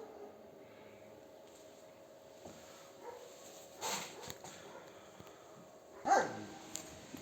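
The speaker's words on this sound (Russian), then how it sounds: "Здесь еще одна собака лает." A dog barks on a trout farm, a few separate barks at a moderate distance over a quiet outdoor background, the loudest one near the end.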